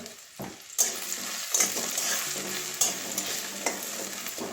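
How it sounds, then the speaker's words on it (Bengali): Potatoes frying with turmeric in oil in a pan, a steady close sizzle with several sharp scraping stirs of a spatula across the pan. "একটু লাল লাল করে আলুটাও ভেজে নেব"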